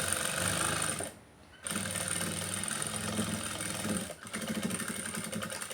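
A sewing machine stitches a hand-style blouse made from saree cloth. Its motor makes a steady whirring hum with one clear pause of about half a second, then runs on again. No one speaks.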